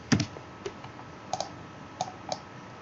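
Typing on a computer keyboard in a quiet room, a handful of light close key clicks spaced irregularly over a few seconds.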